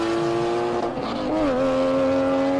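A 23-year-old original GT3 race car at a hillclimb screams at high revs, its sharp engine tone dipping and rising through a gear change as it powers past close and loud.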